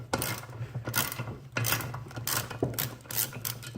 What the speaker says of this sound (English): we'll pull our compressor tool back off